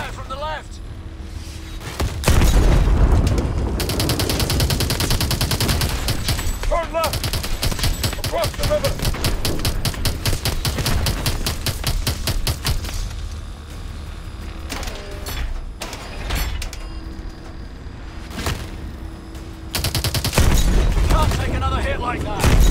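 Sustained automatic gunfire in the futuristic shooter Call of Duty: Advanced Warfare, loud and close, with dense rapid bursts running almost continuously, short pauses, and voices calling out over the fire.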